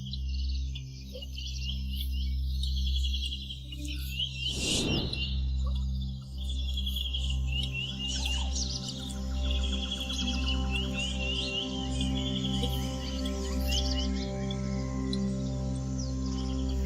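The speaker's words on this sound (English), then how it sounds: "Host to an ever-changing array of feathered residents and visitors in the wetlands, birds bring variety and beauty to an already teeming ecosystem." Wild birds in a wetland chirp and call with bright, scattered tweets over a low continuous drone, with one brief rushing burst midway.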